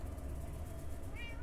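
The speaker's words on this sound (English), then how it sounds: "oh, a cat!" Cat meowing in Minecraft, a short soft mew rising near the end over steady low background game hum.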